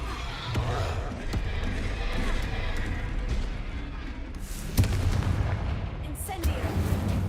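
Confringo blasting spell cast in Hogwarts Legacy amid continuous battle noise: rumbling booms and sharp cracks, with one louder blast midway and more impacts near the end.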